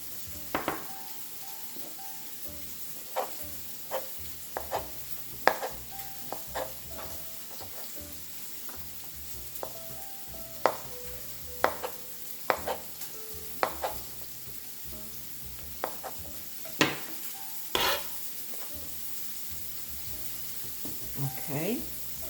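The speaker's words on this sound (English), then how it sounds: "I have a couple more to slice." Mushrooms are sliced with a knife on a cutting board, scattered sharp taps in an irregular rhythm over a faint background sizzle, close, with occasional kitchen clatter.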